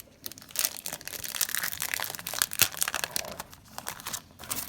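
Crinkly plastic packaging around a set of journaling cards is pulled open up close, giving a few seconds of continuous crackling and rustling with small sharp crinkle peaks.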